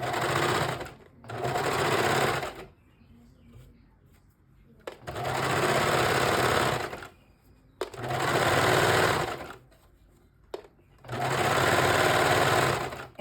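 Sewing machine stitching a tri top in four loud, steady bursts of rapid whirring, each a few seconds long, separated by short quiet pauses with faint handling noise.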